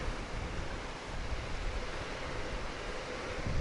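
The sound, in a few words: Shirlak waterfall rushing water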